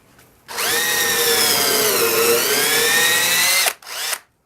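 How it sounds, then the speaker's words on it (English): A power drill bores a pilot hole into wood while a raised garden bed is built, a loud, steady whine rising in pitch that runs about three seconds alone before cutting off, followed by a brief softer burst. "so now that we're all in place, we do the second pilot hole"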